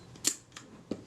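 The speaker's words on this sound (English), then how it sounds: "the shutter release on the shutter pops out of" Shutter release mechanism of a Retina IIa camera being worked on: a few short, quiet mechanical clicks and snaps spaced apart, close and alone.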